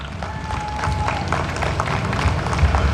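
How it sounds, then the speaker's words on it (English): Crowd applause at a Hmong American Day 50th anniversary celebration, a steady wash of clapping from a large audience that swells slightly toward the end with some background chatter. "Let's give him a round of applause too."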